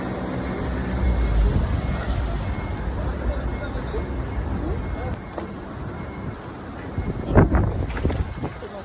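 Wind buffets the microphone in a constant low, roaring rumble, and a voice speaks over it.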